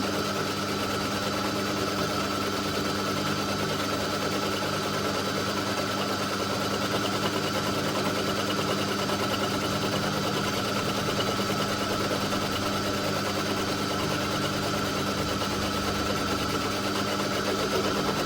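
Metal lathe turning a steel and brass hammer in one operation, a steady loud whirring hum with constant motor drone and cutting chatter throughout, unbroken and without talk.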